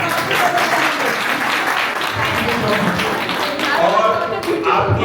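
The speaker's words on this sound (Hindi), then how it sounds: "उसकी ये तालियां बजाएं।" Strong applause fills the room at a talk show with an actress in Jalvayu Vihar, Greater Noida, with crowd voices mixed into the clapping throughout.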